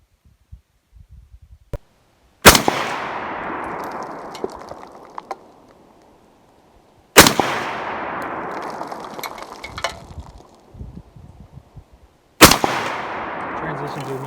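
Three sharp rifle shots from an Arsenal SLR107FR fired at distant targets, spaced several seconds apart, each a loud crack followed by a long decaying echo, with faint shuffling in between.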